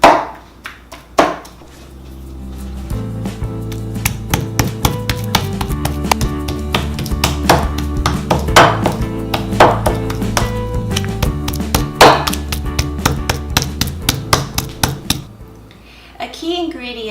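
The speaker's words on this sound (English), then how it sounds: "let's pound these shrimp" Shrimp pounded by hand for Bun Rieu produce rapid, regular knocking thuds, close and loud, with a steady rhythm running through most of the stretch under light background music.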